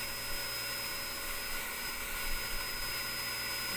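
A pet hair blower dryer runs with a steady, even roaring whoosh and a thin high whine, used here to blow out aircon filters, constant and fairly close.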